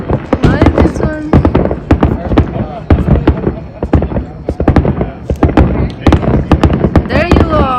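Fourth of July fireworks burst in rapid, dense succession, loud and close, with cracking pops and booms piling over one another while people talk and exclaim throughout.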